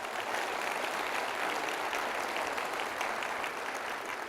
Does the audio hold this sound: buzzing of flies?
no